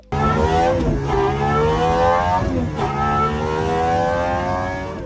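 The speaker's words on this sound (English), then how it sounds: "This is the McLaren F1 that has been brought into the future." A Gordon Murray T.50 V12 supercar engine, revving to 12,100 RPM, holds a loud, rich drone, pitch dipping and climbing twice, close and sustained with no talking.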